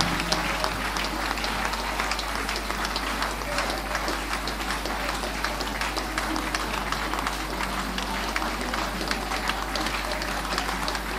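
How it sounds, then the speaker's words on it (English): A church congregation claps hands during a prayer service, steady dense clapping filling the whole stretch at moderate level with a constant low hum underneath. "Somebody clap your hands and pray."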